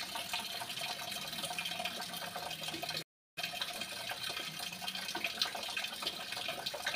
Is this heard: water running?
yes